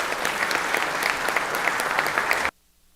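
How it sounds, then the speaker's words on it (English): Applause in a state Senate legislative chamber, a steady dense round of clapping from many hands that stops abruptly after about two and a half seconds, leaving near silence. "Let's give her a round of applause again real quick."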